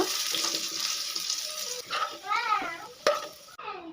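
Potato pieces fry in hot oil in a pan for an egg and soybean curry, giving a close sizzle broken by scraping stirs and a sharp clatter near the end, with no speech.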